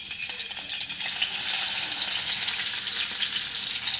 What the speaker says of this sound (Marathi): तेल गरम झालं, लसूण टाकला